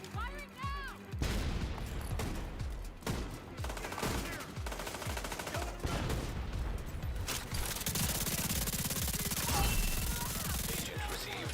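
Automatic gunfire rattles through The Division 2 in rapid, continuous bursts of shots. Sustained volleys and layered weapon fire run loud and close for the full stretch, with game sounds mixed in.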